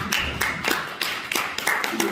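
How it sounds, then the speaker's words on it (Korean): Small group clapping at a church relief-fund press briefing, a handful of sharp, close claps in an uneven rhythm, briefly joined by a faint voice. "수고하셨는데 박수 한번 쳐드리겠습니다."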